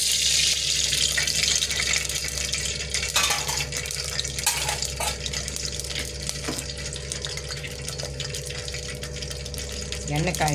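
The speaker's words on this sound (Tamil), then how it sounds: "பாத்திரம் காஞ்சிச்சு, எண்ணெய் ஊற்றி" Oil poured into a heated pan for Tamil-style fish curry, a steady frying sizzle and stirring noise running continuously with a faint background hum.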